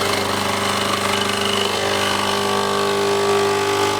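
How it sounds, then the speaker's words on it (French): An electric capsule coffee machine brews with a loud, harsh pump, a constant buzzing drone that stays strong and unbroken throughout. "quand vous vous faites couler un café, vous subissez d'abord ceci."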